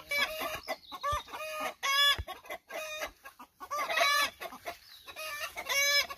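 Chickens cluck close by near a henhouse, with repeated bursts of throaty, rising clucks in quick uneven runs, loud and clear against a quiet background.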